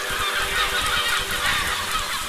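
Birds in the physics-building video game Besiege honk and squawk in a dense, overlapping chorus that continues steadily over a bright background wash.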